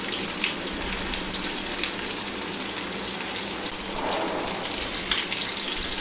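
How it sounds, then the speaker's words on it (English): Fish pieces frying in about three tablespoons of oil in a pan over a low flame, giving a soft, continuous crackling sizzle with faint pops and spatters, no voices over it. "Heat 3 tablespoons of oil in a pan and fry the fish pieces"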